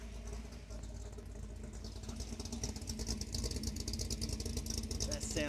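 A Ford Falcon engine idles quietly and steadily in the background, a low continuous rumble with faint mechanical ticking.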